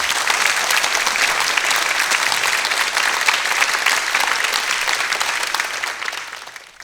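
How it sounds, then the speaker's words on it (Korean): A concert audience applauds loudly after a youth orchestra, the Seoul Youth Orchestra, performs the waltz from Tchaikovsky's Serenade for Strings; dense, even clapping from many people holds steady throughout and tapers off slightly at the close. "다시 한번 힘찬 박수를 보내주시기 바랍니다."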